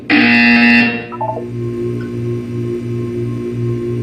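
A loud, harsh electronic buzzer from the video game Portal 2 blares for about a second, then drops into a few stepped lower tones over a steady pulsing hum.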